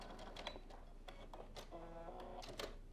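A sewing machine stitches down the folded pleats of a fabric face mask in short bursts of mechanical clatter, with a steadier running stretch toward the end, close and moderately quiet.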